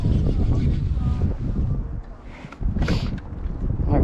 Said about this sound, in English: That dang wind.